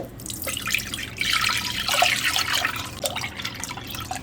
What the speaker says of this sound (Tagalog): Lagyan nyo lang po siya ng tubig.